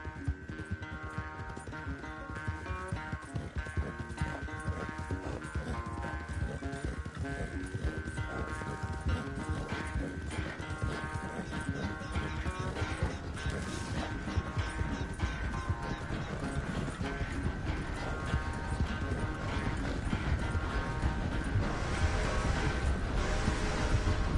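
Rapid hoofbeats of a galloping horse in Red Dead Redemption 2 pound on continuously under a steady tonal game soundtrack, loud and dense throughout.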